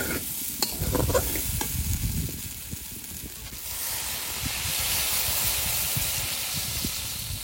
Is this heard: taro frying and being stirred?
yes